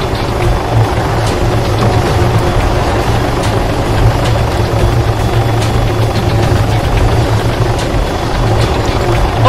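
A helicopter engine and rotor in the military video game Arma 3, a loud, steady, close drone with a rhythmic thrum that holds unbroken throughout, with no talk.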